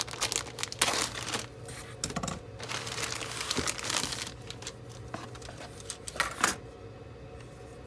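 Plastic bags holding sprues from a Revell 1:48 F/A-18E Super Hornet model kit are cut and torn open. Close, loud crinkling and rustling of thin plastic comes in continuous bursts, with no talking.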